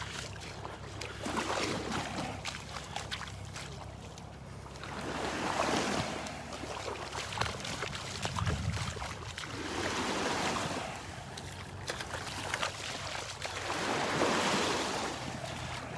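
Surf rolls onto the beach at Delnor-Wiggins, Florida, in soft, repeated swells of wash with a breezy hiss, quiet and steady, with no talk.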